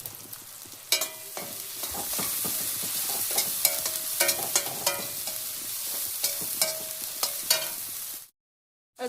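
Green chilies fry in a pan under a steady sizzle while a utensil stirs and scrapes in quick irregular clicks, close and moderately loud, until the sound stops abruptly near the end.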